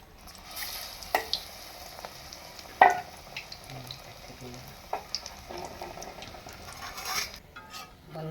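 Raw mango chops fry in hot oil, a soft continuous sizzle broken by occasional sharp clinks of a utensil against the pan, close and moderately quiet with no talk.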